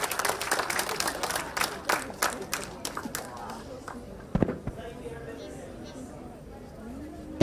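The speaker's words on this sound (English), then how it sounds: "Let's all welcome Japan band team with a round of applause." An audience applauds to welcome a Japanese band team at a live foundation event, a burst of clapping over the first few seconds that thins out into scattered claps and murmuring chatter.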